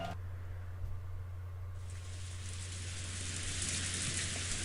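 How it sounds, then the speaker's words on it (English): Animated rain falling in the Umineko visual novel, a steady hissing wash that swells brighter partway through, quiet and continuous over a low hum, with no one talking. "I do like that the rain's actually animated"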